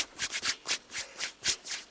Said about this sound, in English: we actually mic them up scratching their heads